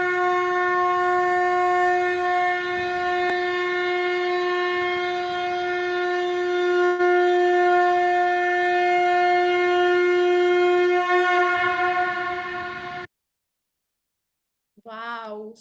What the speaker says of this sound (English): So that is the sound of a conch.